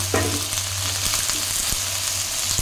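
Small diced potatoes frying in hot oil in a home kitchen, a loud continuous sizzle with sharp spattering pops and occasional clinks of a utensil.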